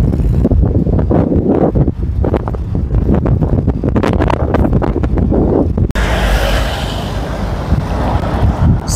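Strong wind roars against the microphone on a bicycle ride through Nuvali, a loud, continuous buffeting rush that swells and gusts throughout with no voices.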